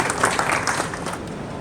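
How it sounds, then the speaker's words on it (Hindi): An audience at an environmental award ceremony gives a newspaper editor a warm round of applause: dense, steady clapping from a crowd, fairly close, holding at an even level throughout. "जोरदार तालियों से स्वागत कीजिए उनका।"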